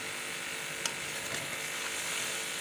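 Half a kilo of potatoes fry in a pan for a spicy aloo dish, giving a steady, close sizzle with faint stirring clinks and one brief tap.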